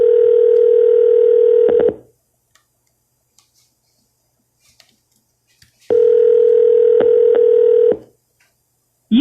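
A telephone dial tone sounds in two steady bursts of about two seconds each, separated by near silence with a few faint clicks, as a cold call for real estate listings is placed.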